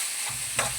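A short scrape of a spoon stirring an idli dish in a frying pan over a low, steady sizzle, close and fairly quiet.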